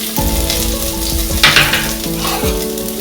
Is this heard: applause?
no